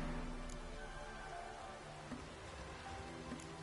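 A steady rain downpour in The Witcher 3, a dense, even hiss of falling water with faint scattered drips, continuous and fairly quiet.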